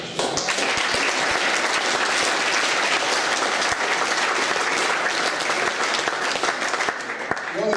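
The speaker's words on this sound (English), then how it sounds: "one more round of applause for the lads have been brilliant from what I've seen this year" A crowd at a football club's first team presentation evening gives a round of applause for the players, dense sustained clapping throughout that fades slightly near the end.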